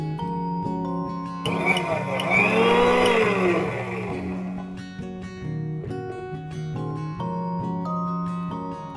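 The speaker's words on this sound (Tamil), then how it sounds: "இப்போ வந்து நல்லா மிக்சியில் அரைச்சி எடுத்துக்கலாம்." A mixer grinder blends jamun fruit for paal sarbath with a steady, loud motor whir that shifts pitch throughout about nine seconds.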